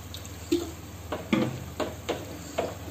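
Water poured into a pot of tomato lentil dal on the stove, heard as five soft splashing pours spaced about half a second apart against a steady low background hum.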